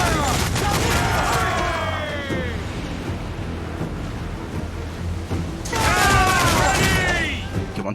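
Ship cannons fire a broadside in the naval battle of Assassin's Creed IV: Black Flag, heavy booming blasts rolling over wind and ocean surf, with a second burst of volleys near the end and shouting voices mixed in.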